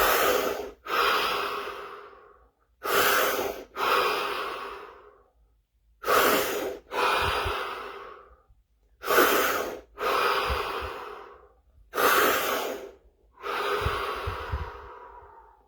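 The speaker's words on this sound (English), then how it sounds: "5 deep breaths" Five deep breaths taken during a guided breathing exercise, each a long, close, loud inhale followed by a fuller exhale, with short silent pauses between breaths.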